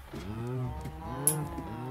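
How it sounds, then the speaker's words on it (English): Cows moo repeatedly on a cow farm in a video game, with overlapping low, drawn-out calls over a steady background hum, and no talk. "Cow farm."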